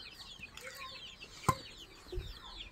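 Chickens cluck softly in short bursts, with a sharper cry near the middle, over faint background chirping.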